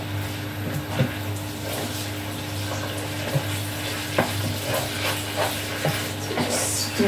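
Chicken stir-fry sizzles steadily in a pan while a corn flour slurry is stirred in, with soft scraping and clinks of the utensil over the continuous frying hiss.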